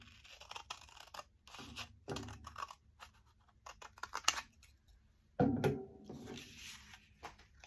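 Scissors cut through a purple-stained index card in a quiet room, giving a few separate soft snips and crunches with pauses between them, then a longer rustling cut near the end.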